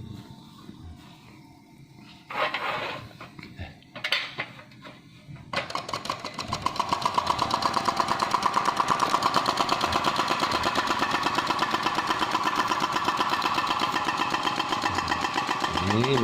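A homemade gamma-type Stirling engine built from used cans runs with a fast, even mechanical chatter that settles into a steady, close rhythm after a few scattered handling knocks.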